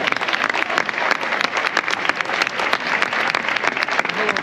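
Loud, sustained applause from a large crowd watching a parade of giant figures in Palma, Mallorca, dense clapping continuing steadily throughout without pause.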